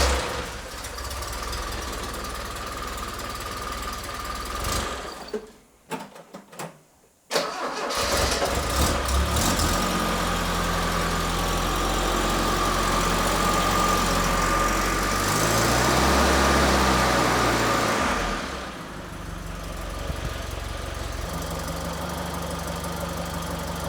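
A Toyota Celica RA28 fastback engine cranks, falters, then catches and settles into a steady, loud idle, with revs swelling briefly mid-run before easing back down.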